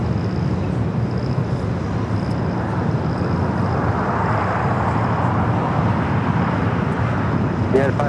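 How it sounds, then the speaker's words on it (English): An American Airlines Airbus A321neo jet takes off at LAX, a loud, sustained broadband roar that holds steady for several seconds, with no talking. "Next takeoff, American Flight 1988 heading to Charlotte, A321neo"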